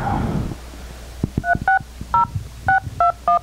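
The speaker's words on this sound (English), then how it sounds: "Do you want me to dial it?" Telephone keypad DTMF tones dialing a number, a run of about nine short beeps in uneven rhythm with small taps between them, close and clear after a brief noisy start.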